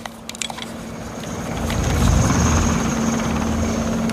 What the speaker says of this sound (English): Okay, so we hear a helicopter coming.